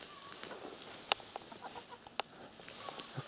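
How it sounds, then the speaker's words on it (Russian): Chickens cluck softly nearby around a person pulling overgrown weeds and burdock, with a few sharper clucks standing out over quiet outdoor background. "Курицы буквально атакуют Никиту"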